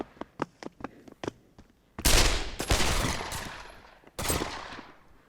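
Video game gunfire and explosions: a run of sharp, separate shots gives way to heavy, dense bursts of rapid fire and booming blasts, loud and close.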